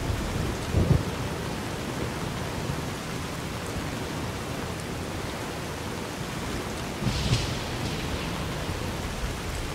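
Steady rain hisses throughout Fallout New Vegas, with two low thunder rumbles, one near the start and one late, rolling under the wash.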